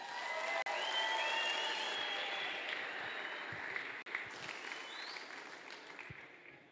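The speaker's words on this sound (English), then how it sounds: "put your hands together for Australia!" A crowd applauds for the Australian team at the Golden Shears cycle shearing challenge final, with dense, sustained clapping that carries steadily through the whole stretch and eases only slightly toward the end.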